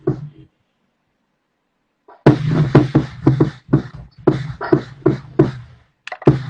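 A 20-inch kick drum captured with a single Yamaha sub kick microphone plays a groove of close, punchy beats after a brief quiet opening, with irregular rhythmic hits and some overlapping drum kit ring.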